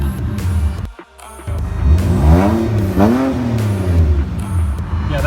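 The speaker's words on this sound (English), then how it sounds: "We got these boys over here revving their cars." A BMW E60 M5 V10 engine revs up and down repeatedly, its pitch climbing and falling in sweeping bursts, loud and close with a brief dip near the start, with no muffler.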